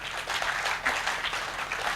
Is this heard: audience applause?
yes